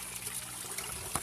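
Water trickling from a level drain pipe on an aquaponics system, a faint, continuous splashy patter with small irregular drips, heard alone at low level.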